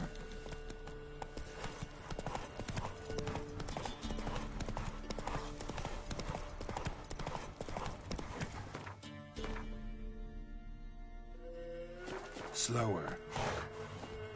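Hooves of Roach, a horse in The Witcher 3, clip-clop in a steady fast rhythm, close and continuous, before slowing near the end with a short snort and a voice over the last seconds.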